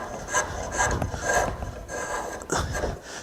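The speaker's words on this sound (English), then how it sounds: "This I'm going to have to get with the rasp." A rasp works a wooden piece in repeated rough, scraping strokes, each pass a short burst of gritty friction separated by brief pauses.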